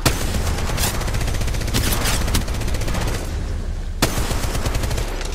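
Rapid automatic gunfire in the mobile shooter Apex Legends Mobile, dense overlapping bursts of shots that run almost without pause, loud and close, with a brief lull near the end before a final shot.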